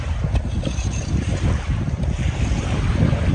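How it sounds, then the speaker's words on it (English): Strong outdoor wind buffets the microphone while out on trails with an RC scale Land Rover, producing a loud, continuous low rumble and gusty roar with no pauses. "it's a bit windy"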